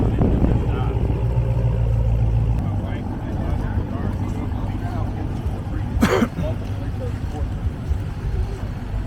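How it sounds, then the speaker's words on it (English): Ferraris at a Cars and Coffee car show, with a steady low engine rumble and a passing whoosh mid-clip, heard close alongside outdoor crowd noise and occasional voices. "Ferraris."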